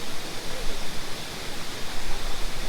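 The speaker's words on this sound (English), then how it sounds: "Nice waterfalls there. Reggae Falls, right?" Reggae Falls in St. Thomas, Jamaica, pours as a steady, broadband rush of falling water, fairly close and unbroken, with no other sounds standing out.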